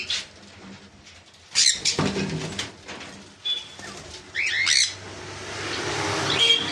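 White cockatiels and sun conures kept for sale give bursts of sharp squawks and chirps near and loud, with quieter rustling and cage noises between calls and no talk.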